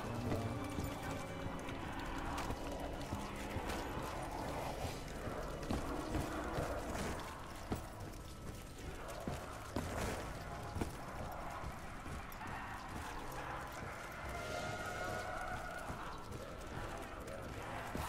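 Hellhounds in Black Ops 3 Zombies on Kino Der Toten charge in a constant clattering, pattering rush with growls and snarls, mixed with game noise and someone talking over it.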